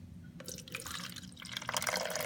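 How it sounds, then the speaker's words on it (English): Water poured gently into the tank of an Arctic Air portable cooler, a close, trickling splash with drips that builds in the second half. "You want to pour the designated water into there, gently like this"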